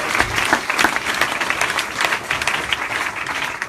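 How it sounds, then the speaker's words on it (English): A political rally crowd claps in a dense, steady round of applause, close and fairly loud, with no voices standing out above it. "I would like a round of applause for them."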